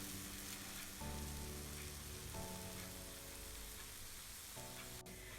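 Banana pancake batter cooking in a pan over a medium flame, giving a steady soft sizzle that holds the whole time, with a low background hum rising and falling underneath.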